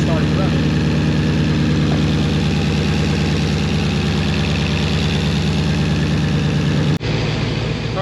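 A twin-turbo Hellion engine in an S550 Mustang runs at a steady, even idle, a loud continuous drone that cuts off abruptly near the end into a different, quieter tone.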